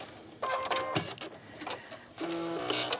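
A sewing machine stitches a pillow seam in two short runs with a pause between them, a close, even mechanical whir taking a few stitches and then reversing to back stitch, with no talking.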